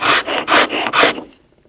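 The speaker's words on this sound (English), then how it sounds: "use the rasp to round it off a little bit" A hand rasp files a carved wooden ball in five loud, even rasping strokes in quick succession, close up and with no other sound, then falling quiet.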